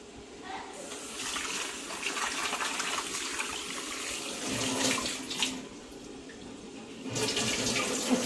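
Water runs and splashes as khapli wheat grains are rinsed in a kitchen, a steady gushing with brief swirls and surges, fairly faint, while someone talks over it.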